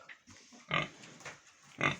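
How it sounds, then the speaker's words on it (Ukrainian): A pig grunts several times close by, short low snorting bursts separated by brief pauses. "Така хороша свиночка."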